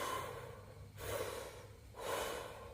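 Heavy breaths are drawn through a cheap homemade scuba hookah hose, two long forceful rasping inhales with a quieter pause between, close and breathy with no talking.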